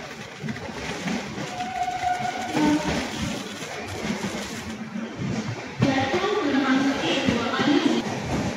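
The 12125 Pragati Express runs on the Panvel line during the monsoon, with a continuous rumble and rattle of the moving train. Faint tonal whistle-like notes appear, and the sound grows louder partway through.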